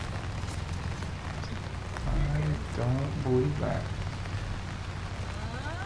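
Steady rain falls on an outdoor disc golf course, a continuous wet hiss throughout while people talk over it.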